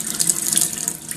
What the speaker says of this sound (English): And then dump out some water.